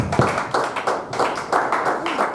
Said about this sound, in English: You can clap better, you can clap better.